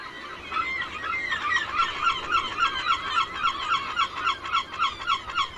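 Gulls in a dense colony on an island call continuously, a steady chorus of overlapping honking cries with a pulsing rhythm, fairly loud and close, with no voices.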